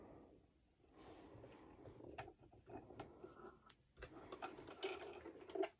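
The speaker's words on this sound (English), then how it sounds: "my sewing machine is on the highest setting of the stitch" A sewing machine set to its longest stitch runs in short bursts as fabric is fed under the needle, giving quiet mechanical whirring and clicking with pauses between runs.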